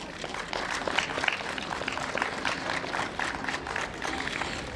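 Outdoor audience at a town holiday light-up and skating rink opening applauds a singer, a dense, steady wash of clapping from a crowd at moderate distance.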